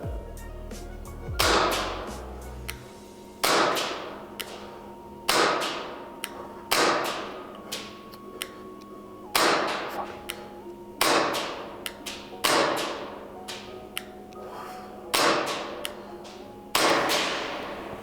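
Pistol or SMG shots fired at a range, roughly a dozen sharp, loud cracks spaced a second or two apart, each with a quick ringing decay, and no talking.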